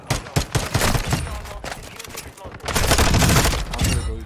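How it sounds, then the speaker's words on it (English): Rapid bursts of automatic gunfire crackle through a Warzone 2 firefight, dense and loud with repeated volleys, mixed with players talking over the shooting. "Stop shooting at me, bro."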